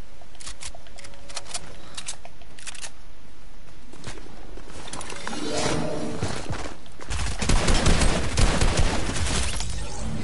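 Fortnite gameplay gunfire in a Team Rumble match: sharp clicky shots scattered through the first half, then a denser, louder burst of firing toward the end.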